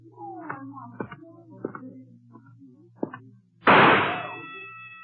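In an old-time radio drama, a single sharp gunshot with a ringing metallic tail goes off at a carnival shooting gallery, following brief conversation between voices.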